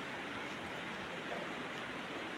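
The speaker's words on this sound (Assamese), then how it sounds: "বৰষুণ দি আছে" Rain falls steadily on a crowded river ferry, a soft, even hiss of drops with no pauses and no voices over it.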